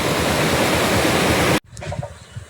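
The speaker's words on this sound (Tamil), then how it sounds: "இங்கே பாருங்கள், தண்ணி எவ்வளோ அழகாக ஊற்றிட்டு இருக்குன்னு" Water pours steadily among paddy fields near a temple with areca groves and hills, a loud continuous rush that cuts off abruptly partway, leaving quieter outdoor ambience.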